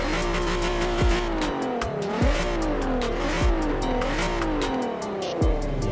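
Golf R32 with a naturally aspirated V6 and 4Motion, driven in Forza Horizon 4, revving loudly and continuously with repeated rises and drops in pitch as it accelerates and shifts, plus tire noise, with no talk.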